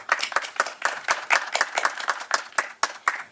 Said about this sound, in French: on peut applaudir nos deux conférenciers